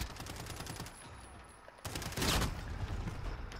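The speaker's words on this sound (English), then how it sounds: "You hit me with a shotgun." Shotgun blasts from Call of Duty: Modern Warfare ring out in close succession amid dense game noise, with a louder burst of fire partway through.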